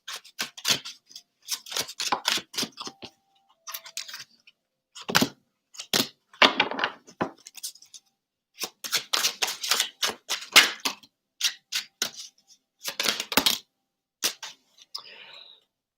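Tarot cards being pulled and handled, with clusters of crisp, close papery snaps and shuffling rustles separated by short pauses.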